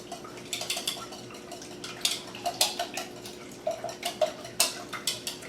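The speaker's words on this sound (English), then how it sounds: "I'm just going to use my whisk and I'm just going to break this up and beat them a bit" A wire whisk rattles against a bowl while beating eggs, in a quiet kitchen: quick bursts of scraping clicks in an irregular rhythm, close and fairly soft, with no one talking.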